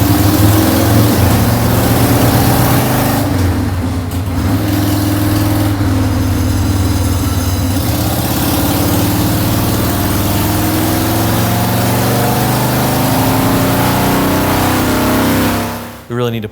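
A big-bore Harley-Davidson Sportster engine with nitrous runs loud on a dyno, holding a deep steady drone with rises and dips in pitch as it revs, cutting off near the end.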